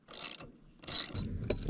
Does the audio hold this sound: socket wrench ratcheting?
yes